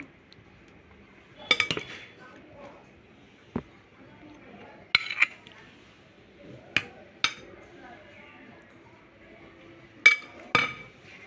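A spoon clinks and scrapes against a plate while pumpkin greens cooked with moong dal are served, giving a handful of sharp, fairly close metallic taps spread out over a quiet room background.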